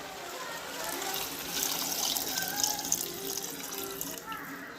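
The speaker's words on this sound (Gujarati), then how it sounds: "હવે નાખી દેશું ડાયરેક્ટ પાણી" Water pours steadily into a cooking pot of khichdi for several seconds, a continuous close splashing stream with some rise and fall in intensity.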